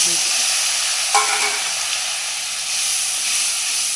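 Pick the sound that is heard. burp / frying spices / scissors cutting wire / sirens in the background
frying spices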